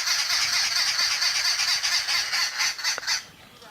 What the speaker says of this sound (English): All these birds, alarm calling, the starlings screeching, the babblers going mad.